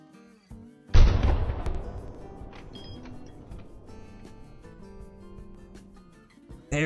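A single loud rifle shot is fired at an albino cape buffalo while hunting in the Call of the Wild video game, a sharp crack followed by a long, fading echoing rumble and low ambient hum.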